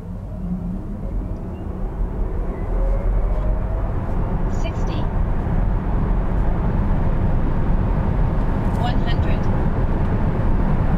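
A VW ID.5 electric car accelerating at full power from 0 to 100 km/h, a steady rising road and wind rush that stays loud throughout, with a voice speaking over it.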